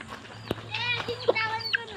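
Chickens clucking and squawking in short bursts nearby, mixed with a low steady hum and a sharp knock.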